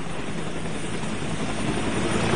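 Helicopter at a landing pad, its rotor and engine making a loud, continuous broadband roar close by, steady throughout with no talk.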